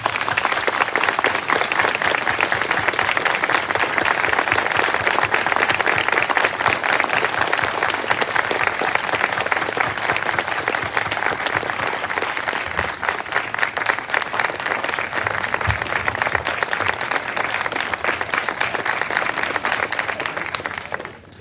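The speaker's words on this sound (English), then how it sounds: "join me in giving him a round of applause and thanks" A long, sustained round of applause from the audience at a 2022 school commencement ceremony, dense and steady clapping that stays loud for about twenty seconds before cutting off.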